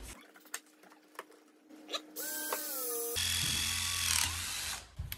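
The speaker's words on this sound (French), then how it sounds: "Vincent est en train de faire un trou à la scie cloche de l'autre côté" A hole saw bores through material on a container house build, a loud continuous whining grind running for a few seconds, alongside sharper clicks and a separate whirring tool at moderate distance.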